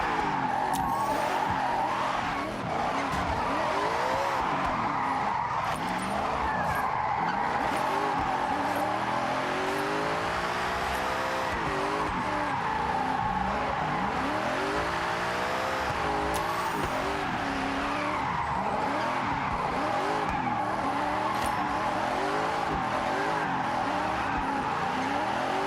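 A car engine in Forza Horizon 6 revs and whines in long sweeping rises and falls while tires squeal continuously during a drift, loud and close, with no talking.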